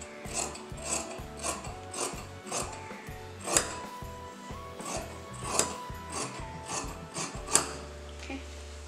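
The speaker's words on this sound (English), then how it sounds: "Okay, so let me cut out the sides." Scissors cut fabric for a DIY crop top, making repeated close rasping snips in a steady rhythm, about one every half second, with faint handling noise between them.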